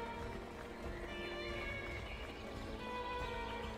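Horse hooves clip-clop with a neigh in the medieval trading game The Guild 3, steady moderate-level game audio with a brief whinny partway through.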